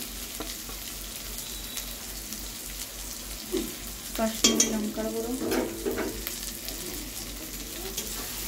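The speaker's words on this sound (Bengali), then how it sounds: "দিয়ে ভালো করে নাড়তে থাকবো।" Egg stirred in a hot pan with turmeric, salt and Kashmiri chili powder, a soft sizzle with scraping strokes that swell briefly in the middle, fairly quiet and without talk.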